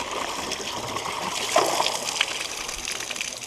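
Water flowing out of a well into a container being timed for gallons per minute, a steady close gush and trickle with small splashes, continuous and moderately loud.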